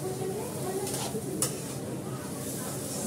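Carrot and cauliflower stir-frying for khichuri in a pan, a continuous close sizzle with a spatula scraping and stirring, and a brief metallic clink partway through.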